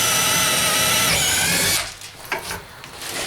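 A Bosch DDB181 compact 18V drill/driver bores a 1/2 inch hole, whining loudly and steadily for nearly two seconds before winding down and stopping, leaving light handling noises.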